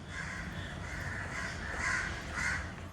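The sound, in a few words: crows cawing in Salem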